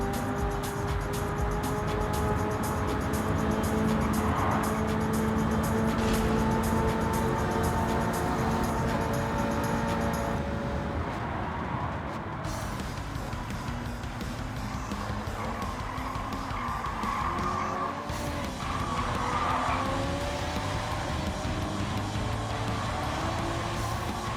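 Hyundai Ioniq 5 N electric car racing in Gran Turismo 7, a continuous loud motor whine with shifting pitch and tire squeal, steady throughout with brief cuts in the drone.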